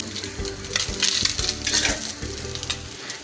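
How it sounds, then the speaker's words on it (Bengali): Mourala fish frying in oil for pakora, a loud close crackling sizzle with spatula scrapes and knocks against the pan as the small fish are turned and lifted out. "মাছের পকোড়া করার জন্য হালকা করে মাছগুলো ভেজে নিচ্ছি"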